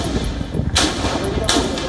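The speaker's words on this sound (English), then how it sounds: "This horrific sound of gunshots are coming from inside the Karachi Stock Exchange." Gunshots inside the Karachi Stock Exchange during an attack by gunmen, two sharp loud bursts about three-quarters of a second apart over a murky, rumbling background.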